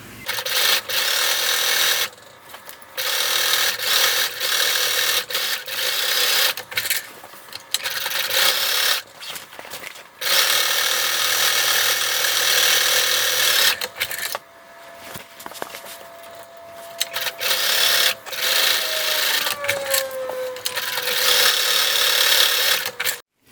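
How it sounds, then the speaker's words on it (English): A sewing machine stitches Velcro pieces onto a fabric Christmas tree collar, running in repeated loud, close bursts of rapid whirring and rasping, broken by short pauses between seams. "Now I'm going to sew each of these Velcro pieces onto the collar."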